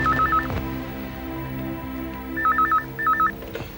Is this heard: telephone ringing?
yes